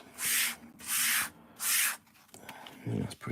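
An Airfix Concorde plastic model is sanded by hand in three even rasping strokes, close and brisk, followed by a few faint knocks and handling sounds.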